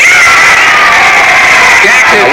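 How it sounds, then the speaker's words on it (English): Studio audience on a 1976 Houston radio broadcast cheers and applauds in a dense, continuous roar of shouts and whoops, loud and compressed throughout. "What are they applauding for?"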